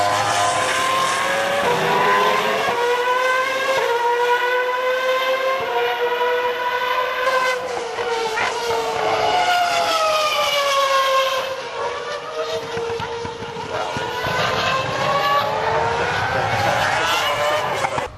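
Race cars circling Silverstone race circuit, several high-revving engines whining past with rising and falling pitch as they pass, loud and continuous, overlapping one another throughout.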